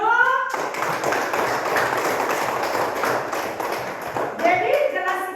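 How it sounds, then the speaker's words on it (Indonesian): A fourth-grade class in a lesson on Genesis claps hands together in a brisk burst lasting about four seconds. A voice speaks just before and just after the clapping. "Tepuk tangan dulu."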